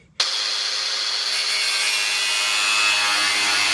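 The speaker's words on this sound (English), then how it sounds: "I trimmed this excess length off with my trusty Metabow grinder" A Metabo grinder cuts excess length off a mini bike ski, starting abruptly into a loud, sustained high-pitched grinding whine that holds steady for several seconds close by.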